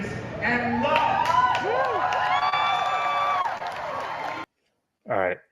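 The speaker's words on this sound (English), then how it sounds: "He really riled up the crowd." A loud crowd cheers, whoops and claps continuously from a played clip, with shouting voices over the roar, before it cuts to silence and a brief spoken voice.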